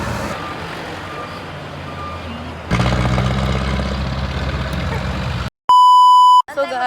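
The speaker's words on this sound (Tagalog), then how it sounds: "Ayun yung mga jeep!" Vehicles on a street in Baguio, with a truck's reversing beeps sounding loud and close in a steady tone after a run of engine rumble and traffic noise.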